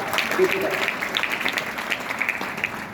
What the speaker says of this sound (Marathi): आपण सर्वांनीच जोरदार टाळ्या वाजवून अभिनंदन केलं